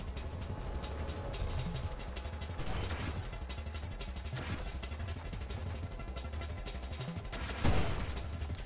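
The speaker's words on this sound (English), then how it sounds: "You can explode your mines." Mines detonate in the space shooter Nova Drift, a dense rapid barrage of crackling explosions with heavier bursts around the third and final seconds, loud and continuous.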